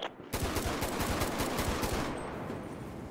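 Rapid bursts of automatic gunfire in the video game GTA V, loud and dense, with repeated shots rattling continuously over the full stretch with no pauses.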